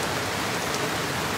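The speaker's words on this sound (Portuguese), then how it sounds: "Parado no meio da chuva" Steady rain patters densely on surfaces all around, an even hiss of close, heavy rainfall with no voices.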